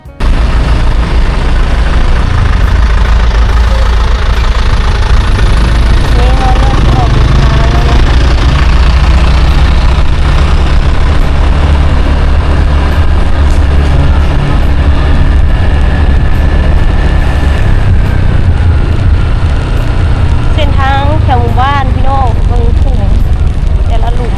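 A motorbike engine runs continuously while riding along a rural road toward a newly built house, a loud steady drone with wind rumble, heard close and without let-up.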